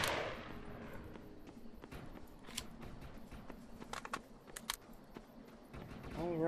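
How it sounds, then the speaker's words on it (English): Gunfire inside a building in the video game Defiance: several sharp, distant-sounding shots scattered across a steady low rumble of game ambience, faint and irregular rather than a continuous burst. "I already hear gunfire inside, so that's either another player or it's just gonna suck in there."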